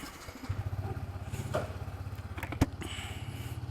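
A motorcycle engine runs close by at a steady rhythmic idle, its regular low thumping continuing with a brief clunk partway through.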